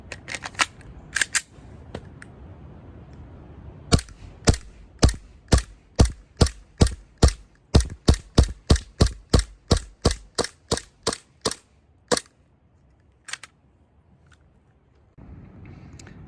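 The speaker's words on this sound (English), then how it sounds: "Now I'm going to shoot a paper target to see our groupings." AW Custom VX7 Z80 airsoft pistol shooting at a paper target: a few scattered close cracks, then a steady rapid series of about twenty sharp shots that slow and thin out, followed by one last isolated shot.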